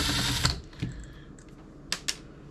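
An electric drill strains while taking apart an old record player. A short whirring burst gives way to a few sharp clicks and rattles, heard close with no talking.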